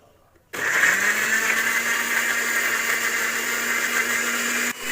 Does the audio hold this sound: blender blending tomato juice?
yes